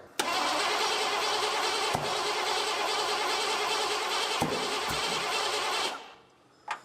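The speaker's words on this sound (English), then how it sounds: "Let's see what happens when it cranks over." A 1986 Ford F150 with a fuel-injection problem cranks steadily for about six seconds with an even, churning starter drone, then stops, followed by a brief clunk near the end.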